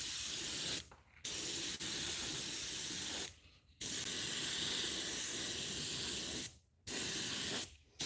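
Spray paint hissing out of a can outdoors in several long, steady bursts separated by short silent pauses, close and loud.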